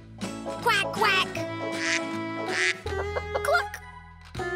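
A cartoon duck in an animated children's storybook gives a run of several bright, nasal quacks, fairly loud and close, over a light musical backing.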